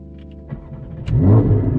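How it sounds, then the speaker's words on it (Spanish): A manual-transmission car is started with the key: a brief starter crank, then the engine catches and settles into a loud, close idle. "ya podemos proceder a encender el vehículo"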